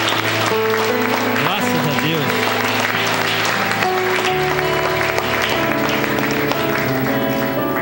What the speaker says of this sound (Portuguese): Vamos agradecer a Deus com uma salva de palmas.